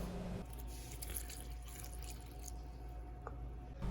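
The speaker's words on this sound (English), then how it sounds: "Then I'm going to start by adding in 2 cups of warm water." Warm water is poured into butter bread dough ingredients, making a faint, soft, continuous trickle and splash that runs almost the whole time, with no voices.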